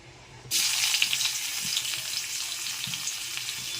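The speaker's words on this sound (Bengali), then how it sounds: "এবার ওই মাছ ভাজার যে তেলটা আছে তার মধ্যেই আমি সামান্য একটু পেঁয়াজ বেরেস্তা করে নেব" Sliced onions hit hot oil left over from frying fish, prepared as a crisp birista garnish for doi katla, and burst into a loud, steady, close-up sizzle that starts abruptly and continues without talk.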